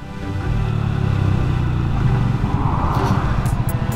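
A car rolls along a road at a fair speed in French wine country, its engine a steady low rumble with tyre and road noise throughout, close and even in level, with no talk.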